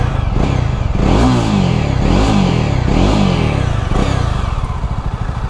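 A BS6 Jawa motorcycle accelerates hard, its single exhaust note climbing in pitch through several revving pulls and gear changes, loud and close with no talking.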